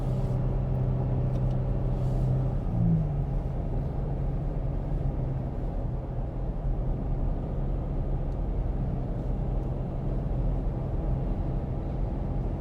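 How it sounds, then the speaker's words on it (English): A Toyota Tacoma TRD Pro engine rumbles steadily while driving in two-wheel high, a continuous low drone with a brief pitch shift near a downshift. "You do have to downshift almost a couple times to get the engine to wake up and find its power band."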